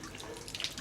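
Water runs and trickles from a leaking boiler, a brief close splashing flow like a tap into a sink, with a few brighter droplet splashes near the end.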